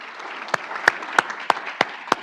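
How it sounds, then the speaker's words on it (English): Sparse applause at a nursing pinning ceremony: a soft bed of distant clapping with a few loud, sharp individual claps standing out at roughly even intervals, no one speaking. "I just want everybody just to give them another round of applause"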